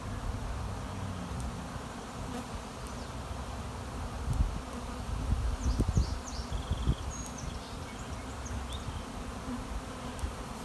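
A swarm of bees circles over a yard, their steady buzzing hum filling the air with a constant drone, individual insects passing close now and then, while a few birds chirp faintly in the background.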